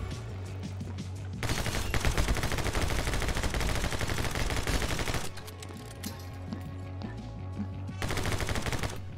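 Rapid video-game gunfire in My Friend Pedro, dense bursts of shots and automatic fire in two long loud stretches separated by a quieter pause, with game music underneath.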